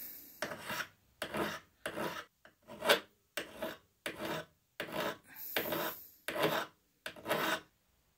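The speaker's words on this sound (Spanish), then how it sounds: "con una lima de metal se puede quitar un poco esa" A metal file rasps across the blade of pruning shears in about nine separate strokes, each a loud close scrape divided by short pauses.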